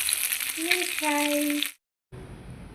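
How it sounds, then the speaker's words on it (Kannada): Fish fries in a pan with a steady close sizzle, with tonal voice-like sounds over it, before a sudden cut to silence and a quieter return. "ಈಗ ಸ್ವಲ್ಪ ಇಷ್ಟು ಮೀನು ತೆಗ್ದಿಟ್ಟಿದ್ದೀನಿ ಇದನ್ನು ಫ್ರೈ ಮಾಡ್ಕೊಂಬಿಡ್ತೀನಿ"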